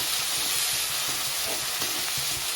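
Finely chopped onions and ginger stir-fried in a pan with cloves, a loud close sizzle with bright hiss and soft scraping stirs every fraction of a second, no voices.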